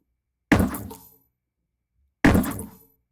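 Two identical synthesized sci-fi weapon gunshots, sharp and higher pitched with a short bright ringing decay, separated by silence and heard alone.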